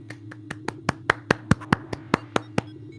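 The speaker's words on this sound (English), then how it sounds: "Clap, clap." Steady, evenly spaced hand claps, about a dozen in quick rhythm, close and crisp over a low hum.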